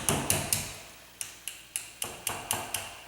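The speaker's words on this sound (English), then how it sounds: "hold it there with one hand, and then just tap it with a hammer" A hammer taps a wooden dowel set against the peg of a clock weight, giving ten light, sharp metallic ticks in an uneven rhythm, close by and fairly quiet, with no talk.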